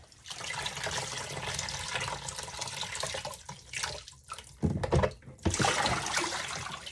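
A wet synthetic wig is lifted out of a basin of rinse water, with steady splashing and running, dripping water close by that briefly drops off and then surges again.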